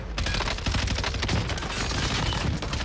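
Rapid automatic gunfire in the video game Warzone, a dense, continuous burst of shots lasting nearly three seconds, loud and close with no talking.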